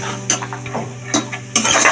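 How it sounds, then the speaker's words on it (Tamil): A spoon stirs soaked green peas in a pan, giving several short scraping and clinking strokes at an uneven rhythm, close and fairly clear, with a faint low hum underneath. "நம்ம ஊற வச்சு எடுத்துருக்கிற பட்டாணி நல்லா மிக்ஸ் பண்ணிக்கணும்."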